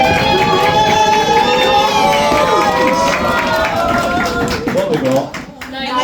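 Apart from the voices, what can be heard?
audience clapping hands and stamping feet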